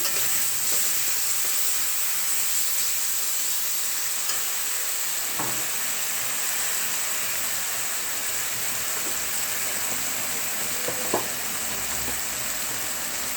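Mutton curry base of ginger-garlic paste frying in a pan, a steady close sizzle and hiss throughout, broken by a couple of faint clinks of a stirring spoon.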